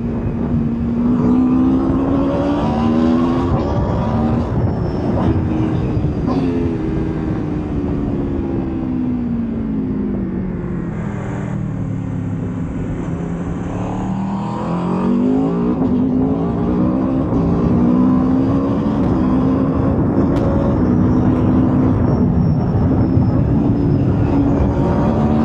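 Aprilia RSV4 1100 Factory superbike engine pulling hard on the throttle on twisty roads, a loud continuous revving drone that rises and falls through the gears for the whole stretch, with no talking.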